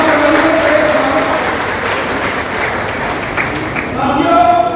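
An audience claps steadily throughout at an outdoor political rally in Taraori, with loud dense applause and crowd noise that stays constant and swells slightly at the end.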